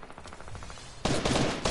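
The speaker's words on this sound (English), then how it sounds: "I hear gunfire" Rapid bursts of gunfire in the Fortnite video game during a Team Rumble match, a run of distant shots giving way to a louder, denser volley near the end, with no talking.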